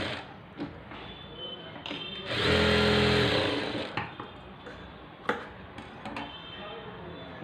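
A sewing machine runs briefly on blouse fabric with lining, a short burst of about two seconds of whirring amid quiet handling noises and light clicks.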